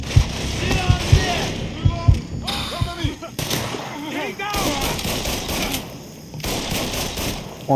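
Bursts of gunfire in the Mafia 3 video game, sharp shots and rattling volleys scattered through the clip under frantic shouting voices.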